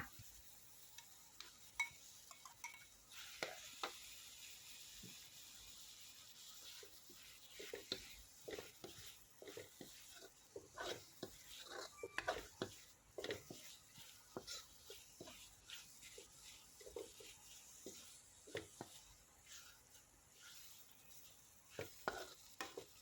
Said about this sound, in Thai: เราก็จะนำเนื้อหมูลงมาผัดต่ออีกรอบหนึ่งค่ะ